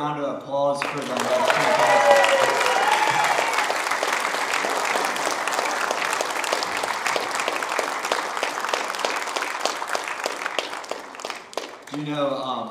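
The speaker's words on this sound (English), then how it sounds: "Can we get another round of applause for them?" A concert audience breaks into loud, full applause that swells quickly and holds steady for about ten seconds before tapering, with a voice briefly audible at the start and end.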